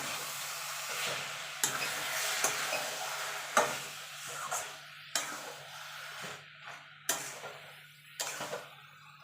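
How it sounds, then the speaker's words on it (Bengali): Cabbage curry in a pan gets stirred after a little ghee and fried spice mix go in, giving repeated scraping strokes with sharp clicks of the spoon against the pan over a faint steady sizzle, with no talking. "দিয়ে দেবো একটুখানি ঘি এবার ভালো করে মিশিয়ে নেবো"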